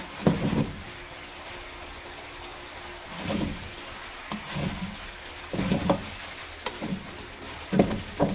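Chicken wings hit a pan and get stirred, with scraping, clattering spoon strokes in uneven bursts over a soft background hiss.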